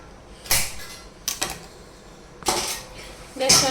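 A knife chops capsicum and beans on a board in a home kitchen, four sharp separate knocks spaced irregularly across a few seconds, close and clear against a quiet background.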